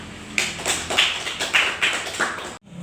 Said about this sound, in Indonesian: bisa memberikan tepuk tangan